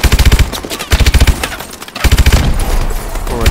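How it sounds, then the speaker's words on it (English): Rapid bursts of automatic gunfire from the video game Call of Duty: Advanced Warfare, with several loud rattling volleys separated by short pauses, then sustained heavy shooting and action noise through the rest. "More shooting."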